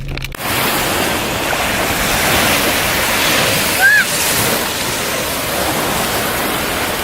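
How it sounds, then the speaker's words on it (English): Ocean waves wash onto a busy beach in a steady, close roar of surf and spray that continues throughout, with a brief voice partway through. "The waves are coming to get you?"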